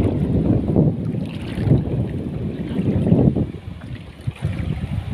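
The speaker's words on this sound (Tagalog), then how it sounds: "grabe ka hangin grabe ka overwind" Strong wind buffets the microphone in heavy, continuous low rumbling gusts, steady and loud throughout.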